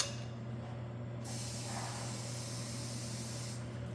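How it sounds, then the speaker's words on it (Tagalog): Water pouring into a boiling pot of sinigang na bangus, a steady close hiss and spray lasting the whole moment over a constant low hum, with no voices. "Dagdagan ko yung tubig ko kasi kumunti siya."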